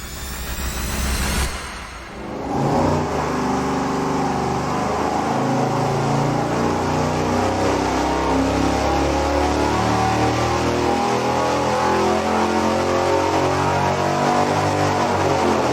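A V8 roars through a steady, loud dyno pull on a standard low-pressure, low-volume oil pump, with dense harmonic engine tones that build after a brief quieter start.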